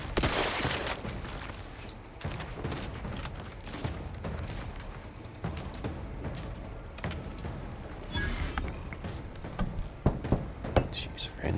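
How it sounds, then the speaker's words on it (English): Gunfire in the video game The Outer Worlds 2, irregular shots and short bursts of varying loudness scattered through a busy mix, with a person talking quietly over it. "I don't know what we're shooting at right now"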